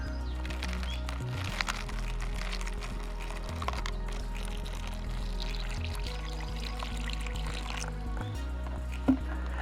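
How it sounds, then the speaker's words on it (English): Water is poured onto a chemical heater pad inside an OMeals bag, a steady close trickle and splash running for several seconds with small bumps and handling noises. "So I'm just going to start adding the water to the pad."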